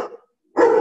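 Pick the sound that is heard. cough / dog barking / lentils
dog barking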